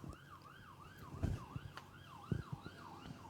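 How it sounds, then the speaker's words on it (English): Two sirens wail in the distance, their rising and falling tones overlapping faintly while a few dull thumps and knocks sound nearby. "When you hear two sirens."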